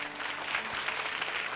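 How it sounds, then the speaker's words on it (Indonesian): A church congregation applauding during a sermon, a dense, even wash of clapping from many hands filling the room, steady and moderately loud throughout the short burst. "Kasih tepuk tangan untuk Tuhan."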